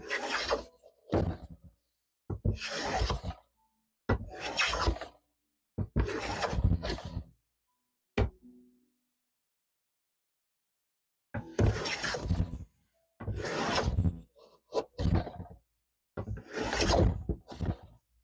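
A hand plane shaving wood with its blade digging in, heard as a series of short rasping strokes in uneven bursts, a long quiet gap midway, then more strokes, with no talking.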